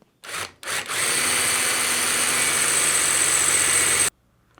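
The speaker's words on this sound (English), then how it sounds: "We're now going to use a 6mm drill just to remove the head." A 6mm drill bores into the head of a wiper arm bearing rivet on a BMW 5 Series, starting with two short bursts and then running in one steady, loud whine for about three seconds before stopping.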